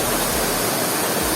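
A strong river or waterfall at a hidden spot in Baco, Oriental Mindoro, roars in a dense, steady rush of water that fills the whole moment, loud and close with no voices.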